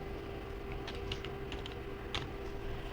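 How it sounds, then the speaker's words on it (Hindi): Keys clatter on a computer keyboard as a coupon code is typed in, a few quick scattered clicks in short bursts over a steady low hum. "तो मैं फटाफट यहाँ पे हेलो कोड टाइप कर देता हूँ"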